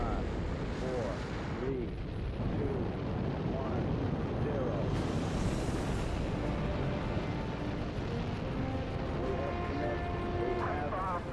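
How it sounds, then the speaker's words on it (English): Rocket engines ignite and build into a broad, sustained roar that fills the scene at liftoff, heard beneath a voice counting down the final seconds. "We have ignition sequence start. The engines are on."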